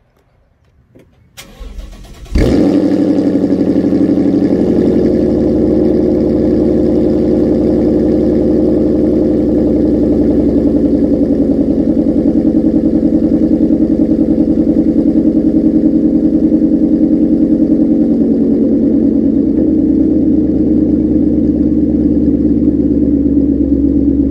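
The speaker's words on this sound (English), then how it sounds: "I'm gonna give you a little test of his exhaust" A Ford Mustang engine fires up after a brief crank and settles into a loud, steady, deep-throated exhaust rumble that holds close and constant without revving for the rest of the run.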